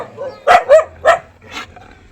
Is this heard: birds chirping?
no